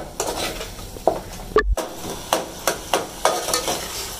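A spoon stirs masala roasting in a pan for moong dal, making a run of sharp, rhythmic scrapes and metallic clinks close up, with a faint sizzle underneath and no talking.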